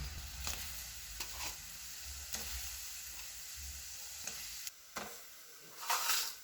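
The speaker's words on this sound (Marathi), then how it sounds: "हे आता पाणी उकळलं आहे मी मॅगी टाकून घेऊया" Maggi noodles drop into boiling, salted water in a kadhai and are stirred, giving a low bubbling hiss broken by intermittent utensil scrapes and knocks against the pan. No one speaks.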